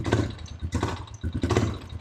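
A Honda TRX350 ATV engine runs poorly and fails to rev, giving a rough, uneven sputter with irregular bursts and dips, close and fairly quiet.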